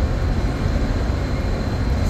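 A Chicago CTA train rolls past in the distance, a steady low rumble holding through the whole short stretch with no voices over it.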